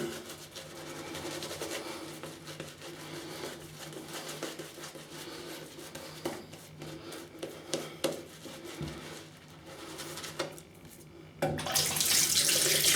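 Tap water running steadily into a sink to wet a shaving brush before a shave with a Diablo razor, a continuous close splash with a few clinks, the flow surging louder near the end.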